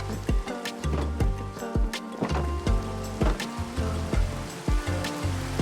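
Steady rain pours down in the Minecraft video game, a constant dense hiss with irregular clicking and tapping layered through it, heard alone with no talking over it.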